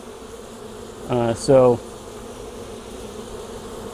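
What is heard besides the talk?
honey bees buzzing at an opened hive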